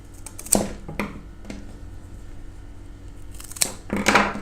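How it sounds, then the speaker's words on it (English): Scissors snipping flower stems to varied lengths for a modern summer arrangement, a few sharp close crisp cuts spaced apart, with light handling noise in between and no talk. "And just going to cut that slightly differing lengths."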